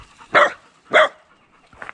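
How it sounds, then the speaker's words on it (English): A dog barks twice in quick succession, loud and close, followed by a softer, shorter yelp near the end. "Earl, you don't have to bark at them."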